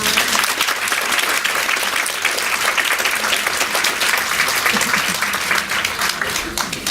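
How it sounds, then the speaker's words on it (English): Loud, dense audience applause closes a question-and-answer session at a talk on fermentation, steady clapping from a full room that runs unbroken throughout with no voices over it. "let's give them a round of applause."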